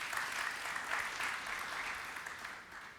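A church congregation breaks into steady applause for the Lord, a dense wash of clapping from many hands that holds evenly and tapers slightly at the end.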